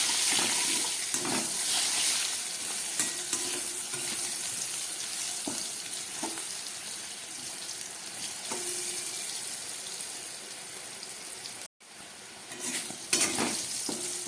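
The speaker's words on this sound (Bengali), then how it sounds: "নুন হলুদ দিয়ে আলু বেগুনটা আমি খুব ভালো করে ভেজে নিলাম" Potato and eggplant chunks seasoned with salt and turmeric fry in oil for a tangra fish curry, crackling steadily over about fourteen seconds. Occasional scrapes and clinks of a spatula stir through the pieces, with a brief silent gap near the end.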